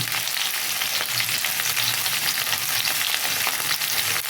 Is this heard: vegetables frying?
yes